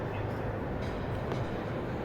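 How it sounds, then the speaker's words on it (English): A train running through a train station, heard as a steady, continuous low rumble with a faint higher hiss throughout. "Now going back through this beautiful train station."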